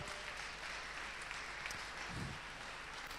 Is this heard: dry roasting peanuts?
no